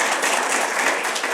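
A dense, even round of applause from an audience at a fireside chat with a state attorney general, many hands clapping at once, fairly loud and unbroken for the whole stretch.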